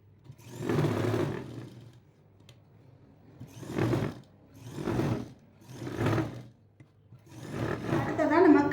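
A sewing machine stitches a straight seam along a jacket lining in bursts of a second or so, its whirring motor starting and stopping five times with short pauses between runs, close and steady.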